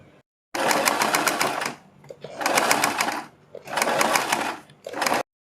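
Sewing machine stitching along piping on plain kurti fabric, three loud rapid mechanical runs of needle clatter separated by short pauses, close and alone.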